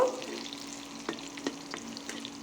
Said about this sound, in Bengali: দিয়ে দিলাম গোটা এলাচ আর দারচিনি আর দিয়ে দিলাম কয়েকটা কাজু বাদাম এবার একটু নেড়েচেড়ে ভেজে নেব